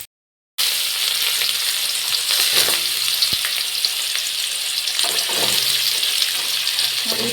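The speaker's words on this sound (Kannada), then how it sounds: "ನೋಡಿ ತರಕಾರಿನೆಲ್ಲ ಹಾಕೋತಾ ಇದ್ದೀನಿ. ಚೆನ್ನಾಗಿ ಎಣ್ಣೆ ಕಾದಿದೆ ಅಲ್ಲ, ಹಾಗಾಗಿ ಎಲ್ಲ ಚೆನ್ನಾಗಿ ಬೇಯುತ್ತೆ." Vegetables drop into hot oil for bonda soup and fry with a loud, continuous crackling sizzle after a brief silent start, with faint scrapes of stirring and no speech.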